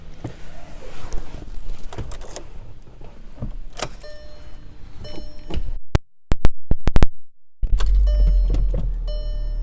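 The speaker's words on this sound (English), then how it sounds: "Power moonroof." Power moonroof of a 2012 Volkswagen GTI whirring as it moves, with motor hum, clicks and a sharp stop-start pattern in the cabin, close and moderately loud.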